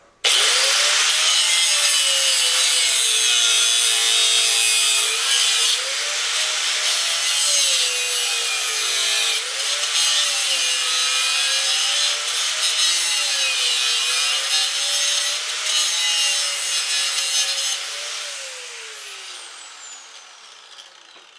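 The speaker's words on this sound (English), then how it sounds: "I'm going to go ahead and do a little bit more cutting right there and get that ground down just a little more" A power tool cuts and grinds a metal hydraulic hose fitting clamped in a vise, producing a loud, sustained, high-pitched whine whose pitch wavers with load before winding down at the end.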